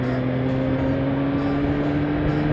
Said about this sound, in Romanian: Fac frână de motor